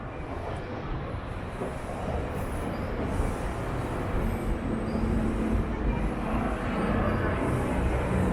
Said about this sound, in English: Oh, here we have a train.